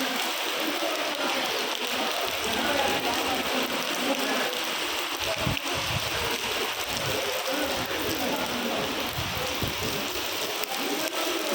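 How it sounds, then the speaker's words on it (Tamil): Heavy rain pours down at the Tiruchendur Murugan temple, a dense, steady hiss of water falling on surfaces that lasts throughout with no pauses. "அபரிமிதமான மழை தெரியுதாங்க உங்களுக்கு?"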